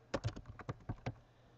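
Quick, light typing on a computer keyboard: about ten close, crisp keystrokes in a short burst, all at low volume with no talking.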